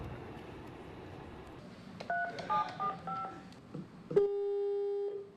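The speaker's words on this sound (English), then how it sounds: "It's ringing." A telephone is dialed with a quick run of DTMF tone beeps, followed by a steady ringback tone as the call connects, quiet room noise underneath.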